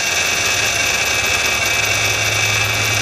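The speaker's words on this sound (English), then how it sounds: "the noise is the power steering pump, definitely" Engine running on a 2010 Honda with a steady whine from the power steering pump over a low idle hum, constant, loud and close with no talk.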